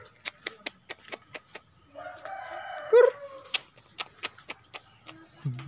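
Village chickens in a rural yard, a rooster crowing once loudly among repeated sharp clucks and calls, with a short low sound near the end.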